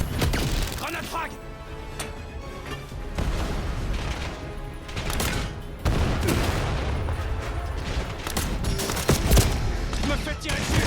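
Gunfire in the video game Call of Duty Black Ops 7: bursts of shooting and heavy impacts overlap a dense, continuous battle din, loud and busy throughout, with a voice speaking over it.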